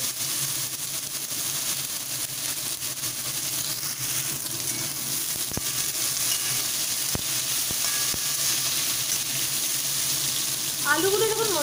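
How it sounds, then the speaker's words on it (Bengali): Potatoes fry with spices in a pan, giving a steady close sizzle with a few sharp utensil clicks, and a brief voice comes in near the end. "আলুগুলো যখন মোটামুটি একটু ভাজা হয়ে আসবে"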